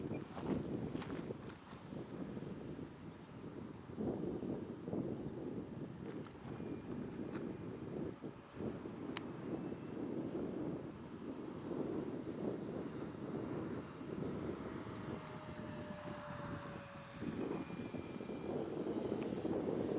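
An E-flite Twin Otter RC model airplane flies on a windy day, its steady electric motor whine running throughout under heavy, continuous wind buffeting on the microphone.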